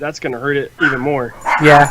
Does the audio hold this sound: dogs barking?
yes